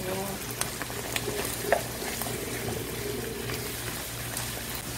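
Garlic chicken with potatoes and mushrooms is stirred in a frying pan, giving a continuous soft sizzle with scraping stir strokes and light clinks, fairly quiet and close.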